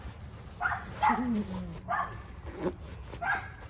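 Puppies bark and yip in short bursts close by, several separate yaps and whimpery cries with a faint room hum between them.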